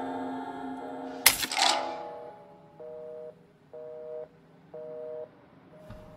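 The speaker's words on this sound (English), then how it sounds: "Phone's out the hook." Off-the-hook phone tone in the horror game Outlast: after a sharp clatter of the handset, a steady electronic tone pulses on and off in four regular beeps, with a brief click near the end.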